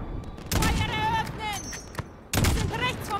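Gunfire in Call of Duty: Modern Warfare (2019) during a highway ambush in the campaign, heard as two loud bursts of sharp rifle shots separated by a short lull.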